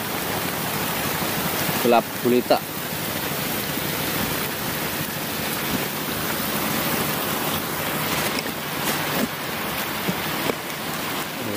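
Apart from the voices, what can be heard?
heavy rain storm at sea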